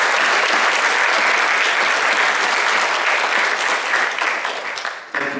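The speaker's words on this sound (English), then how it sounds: "Let's give our teachers a round of applause." A school audience at a middle school eighth grade awards ceremony gives the teachers a loud, dense round of applause that holds steady, then tapers slightly near the end.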